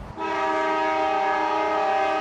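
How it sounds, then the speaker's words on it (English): Freight train horn blaring loud and steady with strong sustained tones at a Spokane-area road crossing, the sound holding at full volume from start to finish. "As trains roll through, the crossing arms come down and drivers trying to get north or south are forced to sit and wait."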